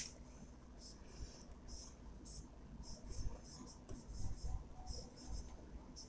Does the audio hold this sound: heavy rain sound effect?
no